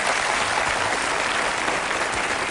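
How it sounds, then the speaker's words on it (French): Sustained applause from a TV studio audience, a dense and steady wash of many hands clapping with no gaps, loud and close throughout. "je pense que pour Patrick Roy, vous pouvez applaudir très fort en tout cas."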